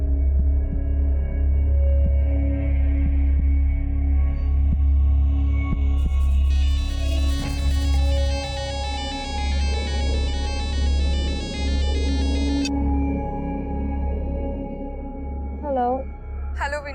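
A phone rings in an indoor drama scene with an electronic, warbling tone repeating for about six seconds over a low steady hum.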